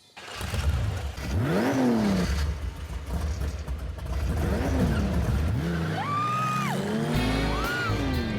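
Off-road sand rail engine revving hard, with rising and falling throttle sweeps and gear changes, loud and close throughout with no talking.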